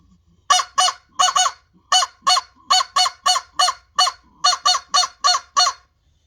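A Mosses Creek crow call blown by mouth, with both hands cupped for a mellow tone, gives loud, close caws in quick pairs and short runs, about fifteen in all, separated by silence.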